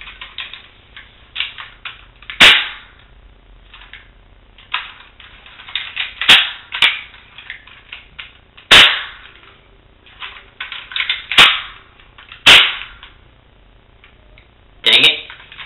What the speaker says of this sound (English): it's not a real gun, it's just a pellet gun